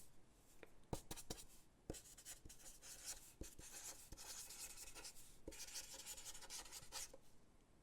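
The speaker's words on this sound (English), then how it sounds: "let's write that down" A pen writes on paper close up and softly, with steady scratchy strokes and occasional sharp taps in a quiet room.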